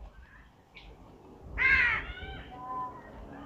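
A trained crow gives a loud, close caw outdoors, followed by a few softer harsh calls, with faint background noise and no speech.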